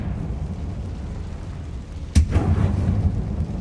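A Confringo fire spell bursts in Hogwarts Legacy, one sharp explosive boom followed by a rumbling tail of debris and crackle over a steady low game background.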